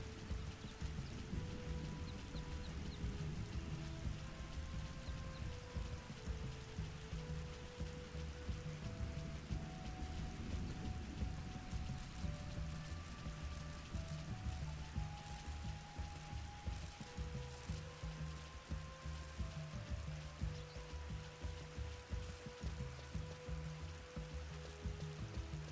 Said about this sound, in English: the rain is coming down so hard it looks like it's double water